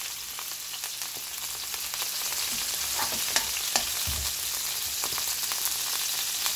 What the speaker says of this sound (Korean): 여기에다가 마늘을 넣으시고 불을 중불로 하셔요.